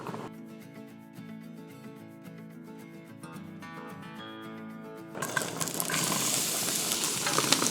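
Onions frying in a pan, a steady close sizzle with a humming, rhythmic undertone that suddenly swells into a louder, broader hiss partway through.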